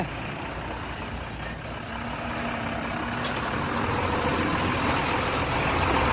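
A Bharat Benz truck engine runs steadily and loudly up close, a continuous broad rumble that slowly builds in strength, with no voices over it.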